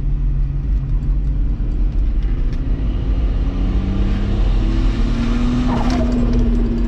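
Turbocharged VW VR6 wagon engine pulling under about 7-8 pounds of boost, a steady loud rumbling drone with rising pitch heard from inside the car throughout.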